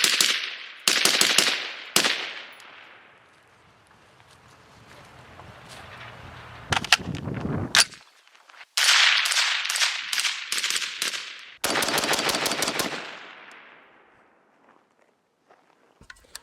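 An AR-15 rifle fires rounds from long-stored magazines in loud, sharp bursts. Rapid strings of close shots are separated by pauses and ringing decay, and the strings grow longer later on.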